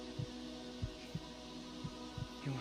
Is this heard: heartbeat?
yes